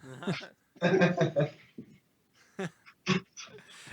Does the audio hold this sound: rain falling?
no